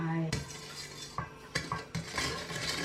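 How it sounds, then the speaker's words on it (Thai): A spoon stirs sugar and salt into coconut milk in a pot, giving a few distinct clinks and scrapes against the metal over a soft, low background. "คนให้ละลาย พร้อมกับเกลือด้วยค่ะ"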